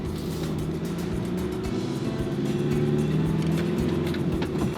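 A car moves slowly through a tight turn on a narrow street lined with parked cars, its low engine drone steady and close throughout with faint street noise around it.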